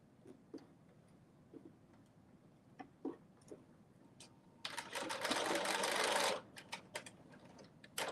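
A sewing machine runs in one short burst, closing the shoulder seam of a Simplicity 9790 dress, loud and steady for about two seconds after scattered light ticks and clicks.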